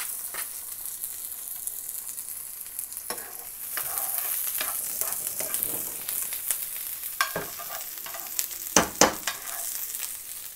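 Onion frying in a pan for nopalitos, a steady close sizzle broken by scattered scraping stirs that grow louder and sharper toward the end, with no talking.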